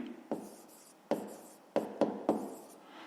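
Pen strokes writing a fraction by hand on paper during a fifth-grade maths exercise, a few distinct scratchy bursts with short pauses between them, close and quiet with no voice.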